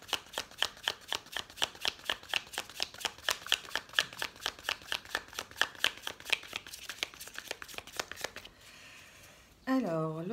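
Oracle cards from an elf oracle deck shuffled in a long run of quick, rhythmic riffles lasting about eight seconds, followed by a brief soft slide as cards are drawn, with a voice starting at the very end.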